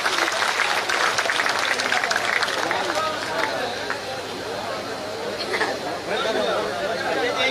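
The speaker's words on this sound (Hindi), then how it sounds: "जोरदार तालियां बजाकर स्वागत करना अभिनंदन करें" A crowd at a public event claps to welcome a member of parliament, with steady applause mixed with chatter and background hubbub and voices murmuring underneath.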